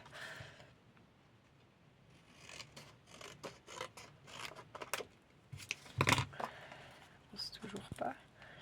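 Scissors cut into a printed family photo in a quiet room, giving faint, close, irregular snips and crisp paper rasps spread through the clip, with no talking over them.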